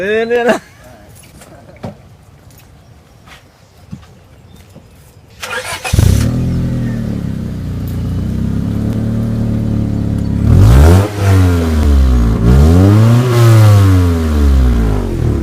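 A car engine cranks and catches at startup, then revs up and down in repeated rising and falling surges, loud and close, with people talking around the vehicle before it fires.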